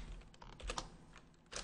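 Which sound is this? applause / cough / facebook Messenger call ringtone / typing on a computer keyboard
typing on a computer keyboard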